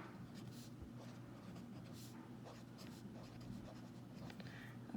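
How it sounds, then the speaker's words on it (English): A pen or marker writes a title on a classroom chart, making faint scratchy strokes in short bursts against a quiet room hum. "I'm going to write the same title"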